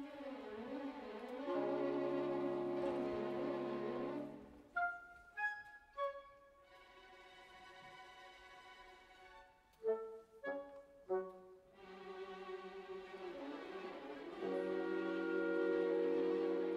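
Full orchestra plays a quiet, building passage depicting an approaching thunderstorm in Rossini's William Tell overture, with sustained harmonies, short detached string and wind figures in the middle, then swelling back to fuller sustained chords, with no talking.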